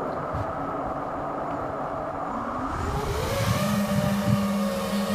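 FPV quadcopter motors running on the Betaflight 4 RPM filter, a steady high-pitched whine whose tone climbs midway as the throttle rises, continuous and close.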